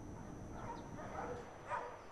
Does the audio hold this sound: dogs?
yes